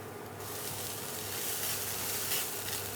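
Rice being stir-fried in a wok with Teochew black olive paste, a steady soft sizzle with faint stirring scrapes, moderately quiet and continuous with no talk.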